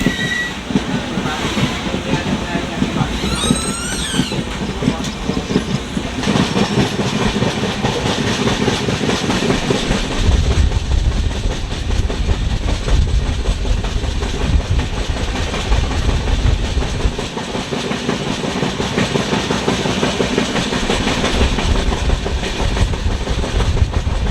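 The Sabarmati Express passenger train runs between Ayodhya and Varanasi, its steady rumble and rhythmic clatter of wheels on rail joints heard from onboard, continuous and fairly loud throughout, with occasional voices in the background.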